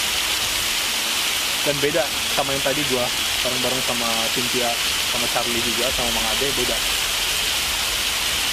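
A waterfall roars as a loud, constant wash of rushing water that fills the background the whole time, while someone talks over it close by.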